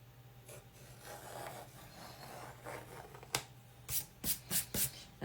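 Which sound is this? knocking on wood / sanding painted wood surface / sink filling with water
sanding painted wood surface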